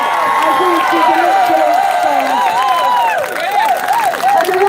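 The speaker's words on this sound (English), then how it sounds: "Please make that applause louder and bigger." Crowd at a London street march cheering and whooping over scattered clapping, with many excited voices rising and falling loudly and continuously close by, and shouts and talk mixed in.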